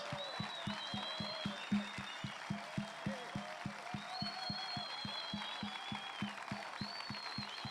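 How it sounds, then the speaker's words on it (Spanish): A church congregation claps together in praise during a morning service, a regular rhythmic beat of unison hand claps under a sustained musical tone, moderately distant and soft. "¿Qué te parece si le damos un aplauso de ruido al Señor en esta mañana?"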